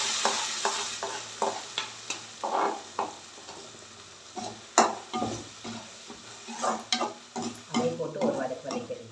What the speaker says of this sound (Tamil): அதே போட்டு ஒரு வதக்கிடலாம்.